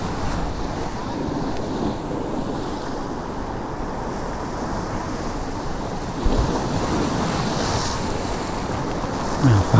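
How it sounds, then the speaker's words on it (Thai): Ocean waves wash onto a beach near Pranburi and Hua Hin, giving a continuous rushing surf with gentle swells, mixed with blustery wind buffeting the microphone. "นี่ลองฟังเสียงคลื่นดูนะครับ"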